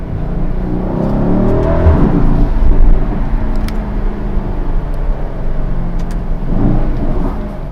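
A Mercedes-AMG GLE63S 4MATIC Plus SUV being driven through the city, its engine a loud, steady, close drone with slight swells as it accelerates. A few faint clicks sound inside the cabin, and no one talks.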